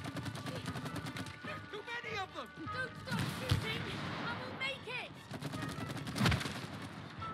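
Video game explosions and gunfire-like blasts sound in It Takes Two, with dense rumbling bursts and two heavier booms while people talk over the action.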